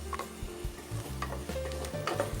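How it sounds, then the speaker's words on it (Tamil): Masala paste sizzles in a hot pan while a spoon scrapes and stirs through it in quick, close, uneven strokes, with no talking. "அந்த மசாலா பேஸ்ட்டை ஊற்றிடலாம்."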